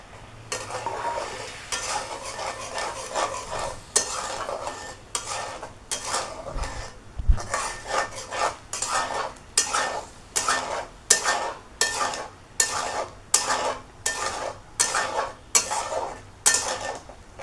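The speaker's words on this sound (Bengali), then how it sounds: "এখন কচুটা ঢেলে দিয়ে মশলা সহ কষিয়ে নেবো" Taro is tossed with spices in a pan, a spatula scraping and clattering in a fast, steady rhythm of repeated strokes over a low sizzle, close and fairly loud with no voices.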